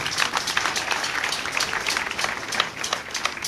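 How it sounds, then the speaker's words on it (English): A gathered audience claps for a union chairman at an indoor meeting, with brisk, continuous applause from many hands at moderate volume. "Give him a better hand clap."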